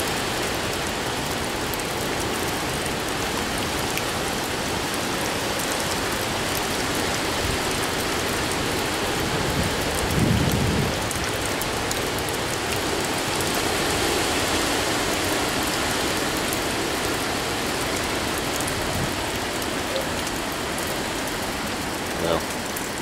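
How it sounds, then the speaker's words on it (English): Rain and wind during Hurricane Irene make a steady, loud hiss and roar that fills the whole stretch without letup, with a slightly heavier gust surge about halfway through. "Rain and wind."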